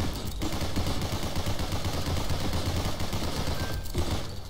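Nonstop dense gunfire from a bullet-heavy survival shooter game, a rapid clattering barrage of overlapping shots that stays loud and unbroken throughout, with a brief dip near the start and another near the end.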